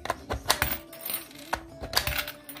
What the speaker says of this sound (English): So let's go ahead and add these coins in.